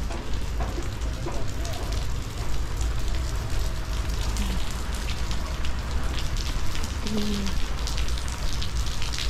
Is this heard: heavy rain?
yes